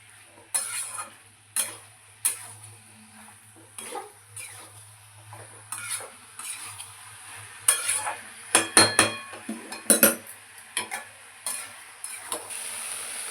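Boiled, fried potatoes are sautéed in oil in a pan, a soft sizzle under repeated scraping strokes of a spatula against the metal, near and clear, growing busier toward the end.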